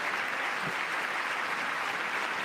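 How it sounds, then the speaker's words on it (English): Steady, dense applause from a crowd, continuous and fairly loud throughout with no pauses. "And like they all clap."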